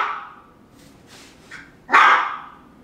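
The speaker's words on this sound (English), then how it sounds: "I don't know what she's barking at with this bathroom." A dog gives a few soft yips and whimpers in a bathroom, then one sharp, loud bark near the end, close by with no talking.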